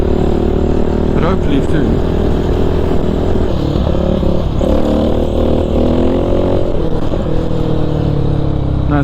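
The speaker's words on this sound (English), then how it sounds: "So for now I'm just doing power wheelies." A supermoto motorcycle doing power wheelies on an abandoned road, its engine droning and revving steadily under a rider's spoken commentary.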